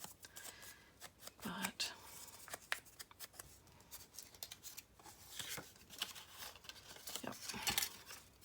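Scissors snip through paper for making craft tags, a few short crisp cuts in bursts between rustling paper handling, close by, with a brief spoken word.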